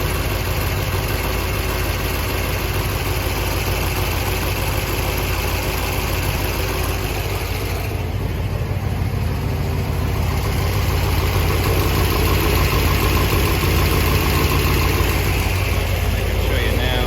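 A 1965 Corvette engine idles with a steady, loud, close rumble that runs unbroken throughout, while a voice speaks briefly over it.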